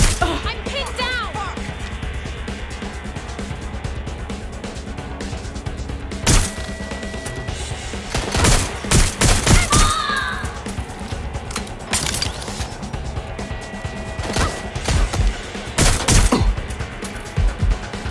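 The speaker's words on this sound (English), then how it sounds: "Suspect is open fire!" Gunfire in the video game Watch Dogs Legion, with scattered loud shots and short bursts over a steady background of mechanical game ambience and occasional voices.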